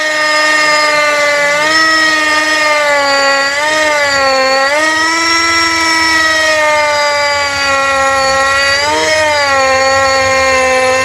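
APR AP34+ brushless hammer drill with a 13mm chuck running in hammer mode at speed 2 into hard concrete, a loud continuous whining motor drone that rises and dips in pitch throughout, with no talk.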